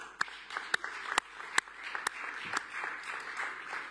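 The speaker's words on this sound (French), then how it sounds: "je vous propose de les applaudir" Scattered claps from people in a council chamber greeting volunteers and a project team, a handful of sharp separate hand claps at first, then a softer, thinner patter, recorded from some distance.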